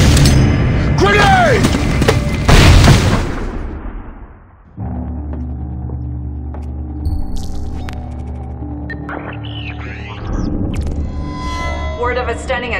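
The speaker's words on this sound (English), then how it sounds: "Grenade!" A grenade blast in the video game Splinter Cell: Blacklist: a loud, rumbling burst lasting a few seconds that cuts off abruptly into a quieter mechanical hum with faint electronic blips.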